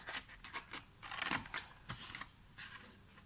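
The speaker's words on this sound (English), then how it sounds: "just cutting this now. Cut up all the score lines." Scissors snip through paper along score lines in a craft project for a gift box, giving soft, close, irregular cutting and rustling sounds at low volume with no talking.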